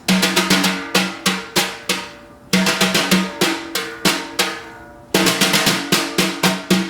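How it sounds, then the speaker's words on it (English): Brushes swish and tap across a drumhead in quick repeating groups of sweep strokes, a crisp rhythmic pattern that cycles three times, played alone. "So that same pattern we were playing, digga digga dot dot dot dot dot, with a sweep stroke would sound like this."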